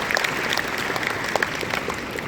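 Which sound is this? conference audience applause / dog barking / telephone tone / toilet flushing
conference audience applause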